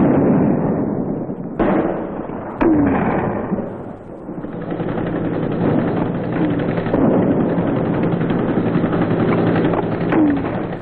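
Mortar and gunfire in Vietnam War combat as patrols call for support, with a few sharp blasts early on and then a dense, continuous rumble of distant firing throughout.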